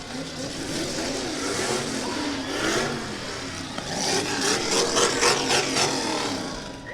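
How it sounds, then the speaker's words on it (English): A car engine revs up and down several times at a county fair demolition-style event, loud and close, the pitch rising and falling with each push. "Revs the motors a couple times."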